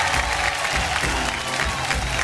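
An audience at a women's game show event applauds steadily, a dense close wash of clapping that holds an even level throughout, with no clear voices.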